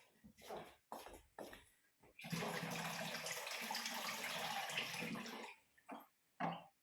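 Water pours steadily into a foot spa basin for a few seconds, a broad rushing splash, with brief bits of speech and a cough before and after.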